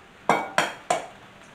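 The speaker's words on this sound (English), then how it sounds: "now I'm going to whisk together my eggs" Eggs being beaten with a fork in a bowl, three distinct clinking strokes against the bowl at a steady, moderate pace, close and clear in a quiet kitchen.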